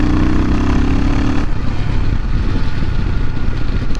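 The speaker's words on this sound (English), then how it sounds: "The exhaust noise isn't super loud" Royal Enfield Himalayan motorcycle accelerating hard: a loud, continuous engine and exhaust drone whose pitch climbs steadily, then drops at a gear change and builds again, with mechanical clatter and wind rush throughout.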